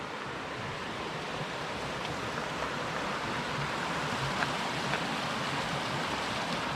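20 Mile Creek in the Idaho backcountry runs with a steady, broadband rush of flowing water, constant and fairly close, with no voices.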